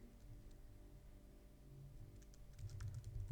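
Quiet, rapid keystrokes on a computer keyboard, getting a little louder and busier toward the end.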